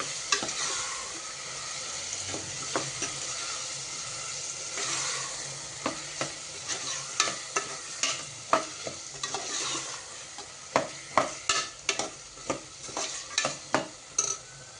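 Quarter kilo of minced meat frying with onions in a pan: a continuous sizzle under repeated scraping stir strokes that grow louder and more rhythmic toward the end.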